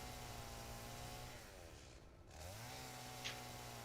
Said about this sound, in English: I can use the chainsaw.